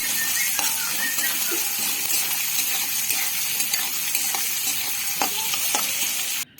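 Chopped onion, one large onion's worth, frying and being stirred in a pan for a paneer and chickpea masala, a steady close sizzle with occasional scraping clicks of the spatula throughout.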